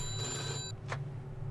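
A telephone bell rings inside the video game Mafia II, one short trilling burst that cuts off suddenly, followed by a faint click over steady low background hum.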